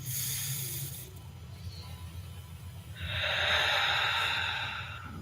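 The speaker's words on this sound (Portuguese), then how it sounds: "tomando mais uma respiração." A deep inhalation and long exhalation during a guided meditation, close and soft, with a quiet breath at the start and a longer airy, hissing exhale that swells in the second half.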